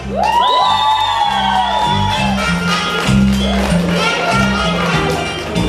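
A crowd at a children's show whoops and cheers loudly with shouts and high voices, over a thumping musical beat that continues throughout.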